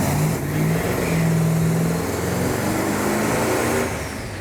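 A 1969 Dodge Daytona's older engine revs steadily toward about 5,000 RPM, a loud, sustained, close-up roar that holds level with no talking over it.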